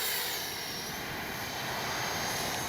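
A steady, loud jet whine from an Arrows 64mm Marlin RC electric ducted-fan jet doing touch-and-go passes, holding a constant roar close by for a few seconds.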